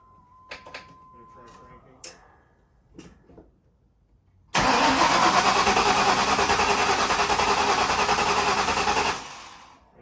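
The engine of a Terminator Cobra car cranks and roars to life suddenly, then holds a loud, dense, steady rumble for several seconds before cutting off, after brief talk and clicks.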